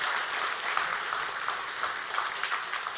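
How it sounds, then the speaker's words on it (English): Sustained audience applause at a cybersecurity forum as speakers leave the stage, a dense steady wash of clapping throughout, fairly distant and even in level. "let's give them a round of applause."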